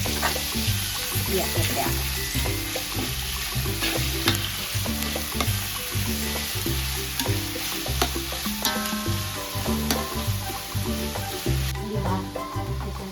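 Chicken frying and being stirred in a pan for pansit guisado, a steady loud sizzle with scraping stirs and clinks of the utensil throughout, while a voice speaks briefly over it.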